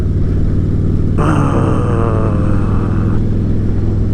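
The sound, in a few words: motorcycle engine lugging in wrong gear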